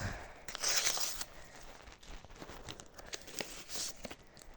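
A paper surprise packet is torn open and unwrapped up close, with a loud burst of tearing near the start followed by softer crinkling and rustling of paper throughout.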